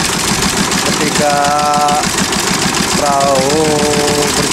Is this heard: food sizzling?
no